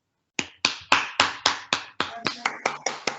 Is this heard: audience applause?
yes